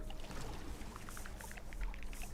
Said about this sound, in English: So yeah, we'll put a water pump here.